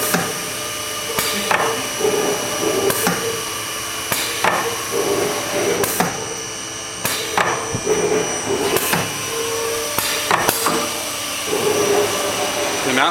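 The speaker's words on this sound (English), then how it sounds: "there's a servo motor on this machine that's causing the bridge to move" A servo motor on a bookcase welding machine drives the bridge in a steady whirring hum, broken by repeated sharp metallic clanks in a loud factory setting.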